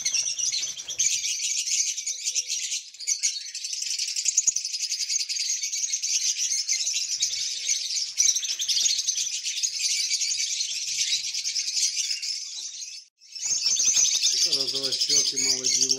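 Dense, continuous chirping and twittering from a flock of lovebirds, cockatiels and zebra finches, loud and close throughout, with a short dip near the end and a voice briefly heard at the close.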